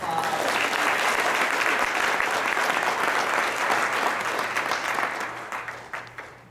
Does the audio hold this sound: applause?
yes